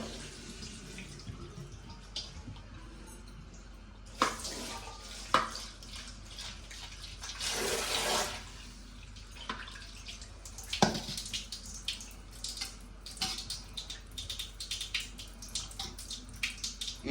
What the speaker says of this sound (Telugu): నేనైతే వేడి నీళ్ళు వేసుకున్నా కొంచెం ఇప్పుడైతే నీట్గా కడిగేసుకుంటాను